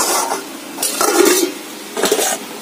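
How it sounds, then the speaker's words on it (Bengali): Moong dal being tempered in a pan gives off bursts of sizzling along with stirring and pan clatter, loud and close, with no talk. "মুগ ডালটা ফোড়ন দিয়ে দিলাম"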